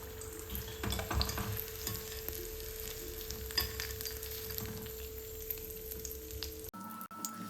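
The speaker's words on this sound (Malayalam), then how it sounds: "ഇതൊക്കെ ഒന്ന് പൊരിച്ചെടുക്കാം." Samosas deep frying in oil bubble and hiss in a steady, fairly quiet stream with occasional crackles, then the sound cuts off abruptly near the end.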